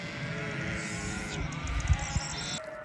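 Sheep from a flock bleating in snowy, foggy mountains, several overlapping calls blended into a steady outdoor wash, moderately close.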